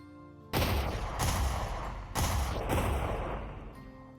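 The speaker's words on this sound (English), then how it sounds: "Okay, that really sounds like a gunshot." Magic spell blasts from a wizardry video game, sharp gunshot-like bangs in quick succession, several loud cracks each trailing into a rumbling decay, with no voices over them.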